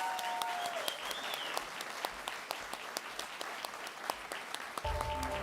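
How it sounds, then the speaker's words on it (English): An awards ceremony audience gives steady, dense applause with sharp individual claps for an XR awards winner, continuing throughout before a short musical sting near the end. "one more time, a rapturous round of applause for the winner of this award, Professor Scott Fisher."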